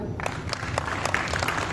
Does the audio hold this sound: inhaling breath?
no